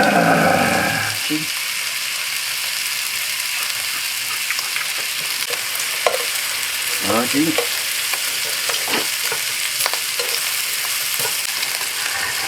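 Thin-sliced pork belly sizzling steadily in a hot frying pan, a dense continuous crackle with occasional louder pops and a few scraping stirs.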